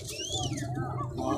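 Pigeons at a bird market coo softly in short rising-and-falling calls over a busy, murmuring crowd background, with people talking nearby.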